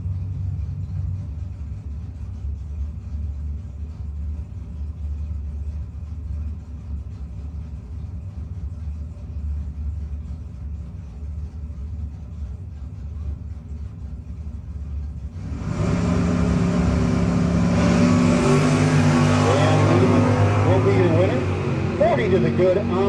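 Drag race between a Camaro and a Nova at a no-box 660 shootout, with a steady low engine rumble at idle that jumps abruptly into a loud, revving launch roar partway through, staying loud to the end.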